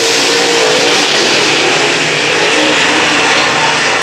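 Super late model race cars roaring around Brownstown Speedway, a loud continuous wall of engine noise as the pack races past, with no voices over it.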